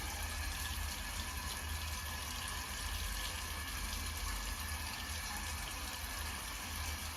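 A bathroom tap runs in a steady, even stream for face washing, with constant close rushing water and no pauses.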